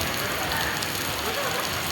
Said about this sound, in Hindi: ये देखो कितनी बारिश चल रही है